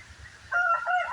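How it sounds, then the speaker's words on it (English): Domestic fowl in a farm pen, with ducks present among them, give a loud, close burst of bird calls that starts about halfway through and holds to the end, after a quieter stretch of low rumbling background. "There's the ducks."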